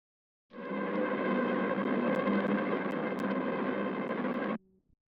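A dense, noisy horror texture layer from the Horror Box 3 Lite sample pack swells in and holds as a steady, gritty drone for about four seconds before cutting off, with nothing else present.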